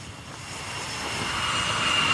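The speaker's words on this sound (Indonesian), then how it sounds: "Jet tempur Super Hornet Angkatan Laut Amerika Serikat lepas landas dari kapal induk USS Abraham Lincoln" A US Navy Super Hornet fighter jet launches from the aircraft carrier USS Abraham Lincoln, its engine roaring as a steady, broad jet rumble and hiss that builds gradually in loudness throughout.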